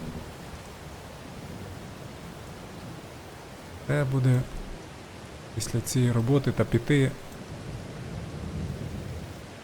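Steady heavy rain hisses throughout a thunderstorm in Farming Simulator 22, a continuous broadband wash with low rumbling beneath, while someone talks briefly over it in the middle.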